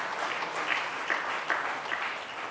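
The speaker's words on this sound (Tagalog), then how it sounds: "Pumalakpak nga ang mga may pinagpapasalamat dito." A church congregation at a Simbang Gabi dawn Mass applauds together in a steady, moderately loud wash of many hands clapping that fills the whole moment without anyone speaking.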